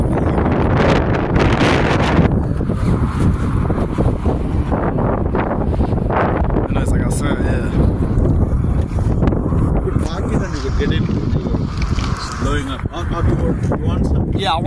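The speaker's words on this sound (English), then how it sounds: "you can hop in your car so it's not too windy." Strong wind buffets a microphone outdoors on an early morning in Canberra, a loud constant roar and rumble with people talking over it.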